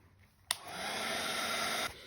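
A hair dryer drying a watercolor painting switches on with a click and runs as a loud, steady whirring blow for about a second and a half, then cuts off. No one speaks over it.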